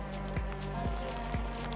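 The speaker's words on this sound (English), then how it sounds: "Sideways rain." Sideways rain in windy Nordic weather in Bergen patters and hisses steadily against a surface, with a low rumble of wind beneath and a few sharper drop impacts.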